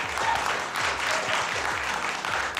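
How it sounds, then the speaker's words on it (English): Studio audience applause at a comedy game show, a dense burst of many hands clapping at close range that swells and dips over a couple of seconds, with a few voices mixed in. "let's have a round of applause for Andrew O'Keefe for appearing in our open"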